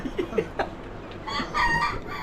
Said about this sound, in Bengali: মুরগির মাংস কলিজা গিলা একবারে এখান থেকে ধরে জবাই দিয়ে এই নাস্তা খাই বলতেছে জাহাঙ্গীর ভাই